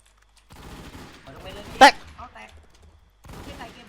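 Video game gunfire bursts out as a rapid volley, loudest in one sharp crack midway, while someone talks excitedly around it.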